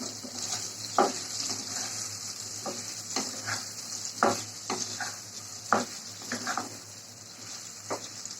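Taro root lightly fries in hot oil in a pan for a hilsa curry, giving a steady bright sizzle with irregular stirring scrapes and knocks against the pan. Close and continuous, with no talking.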